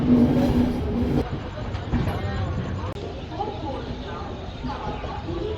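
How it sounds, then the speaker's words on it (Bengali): An express train running from Kolkata to Radhikapur pulls into Bandel station at night, a steady rolling rumble with faint wheel clatter throughout, while people talk nearby. "রাত নটার সময় আমাদের ট্রেন ব্যান্ডেল স্টেশন ঢুকছে"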